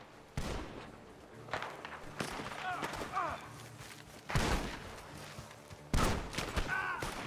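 Gunfire in the Western video game Red Dead Redemption 2, several sharp, loud shots spaced irregularly, some with echoing tails, while voices talk in between.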